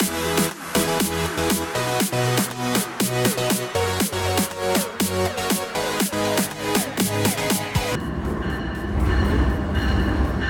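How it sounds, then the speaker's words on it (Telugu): An Amtrak train pulls into a station platform with loud, steady rolling rumble and rhythmic wheel clatter, then a broadband rush of noise as the cars pass close by, with no talking. "అండ్ ట్రైన్ వచ్చేసింది"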